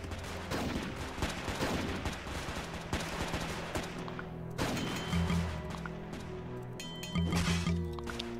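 Continuous gunfire in the Roblox game SCP Tower Defense, steady rattling shots mixed with busy game effects and tones at a moderate level, without speech.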